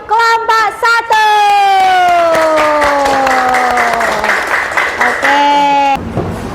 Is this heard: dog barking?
no